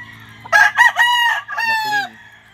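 Gamefowl roosters of the Super Sweater McLean line crow at a game farm, two overlapping loud, drawn-out calls with a short gap between them, close to the listener.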